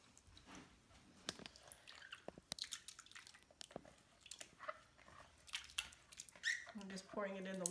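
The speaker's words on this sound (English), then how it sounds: "pouring it in the water and just mixing it up with my hands" Shredded paper scraps are poured into a vat of water and stirred by hand into pulp, giving wet sloshing, dripping and squelching sounds, quiet and irregular, with a voice speaking near the end.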